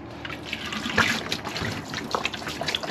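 Pink antifreeze poured into an RV sink drain during winterization, a continuous trickling, gurgling wash of liquid close by with small splashy drips throughout.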